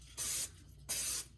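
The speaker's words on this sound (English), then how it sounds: "I'm gonna take some oil spray. This is already hot, I already heated it up." Cooking oil spray aimed onto an already hot pan, two short hissing bursts in quick succession, close and clear with quiet gaps around them.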